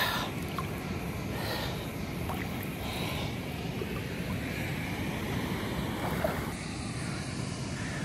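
Rushing water at a waterfall in Serra da Canastra, a steady broadband roar heard outdoors with wind buffeting the microphone throughout.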